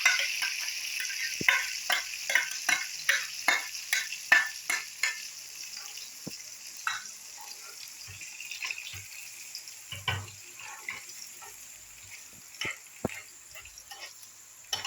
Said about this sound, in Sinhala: මේ බිත්තර මිශ්‍රණය මේකට දාගන්නවා